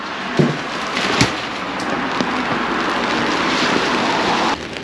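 Steady rain falls outdoors in Imabari, a dense continuous hiss with a few sharper taps of drops standing out; fairly close and even, no voices.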